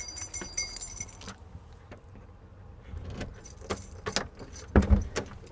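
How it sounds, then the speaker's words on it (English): A bunch of house keys jangles and clinks at the front door of a house under renovation, sharp metallic rattles coming in bursts close by, with faint road traffic passing in the background. "get the keys out."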